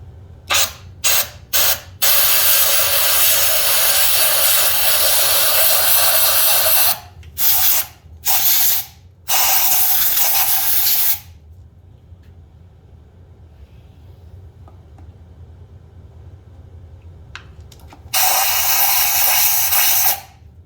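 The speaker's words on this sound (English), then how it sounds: "we'll blow it out with some compressed air." Compressed air blasts out of a spark plug hole on a 1999 Mercury Grand Marquis 4.6 V8 with a misfire, loud hissing bursts of varying length, a few short taps then long sustained blows separated by quiet gaps.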